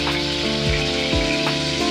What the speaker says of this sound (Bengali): পেঁয়াজটাকে একটু ভাজবো।